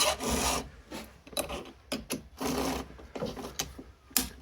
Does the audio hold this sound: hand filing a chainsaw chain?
yes